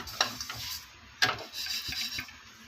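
Cumin seeds dry-roasting in a pan are stirred with quiet scraping strokes and a couple of sharper rattling bursts, close and fairly faint.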